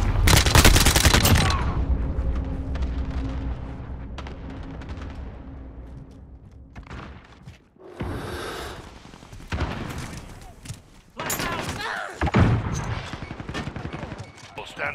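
Video game gunfire from a UAV: a loud opening burst of rapid shots, then rumbling impacts and further crackling volleys, with game radio voices talking over the noise.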